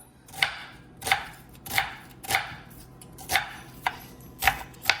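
Onion and green chilies are chopped on a board with a knife, about eight sharp, evenly spaced chops over five seconds, close and distinct against a quiet background.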